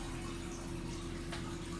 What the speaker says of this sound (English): So you can see I'm just filling my jar here